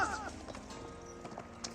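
Mongol Keshik cavalry horses charging in Age of Empires 4: rapid clip-clop hoofbeats and a horse whinny at the start, fairly loud and continuous over battle noise.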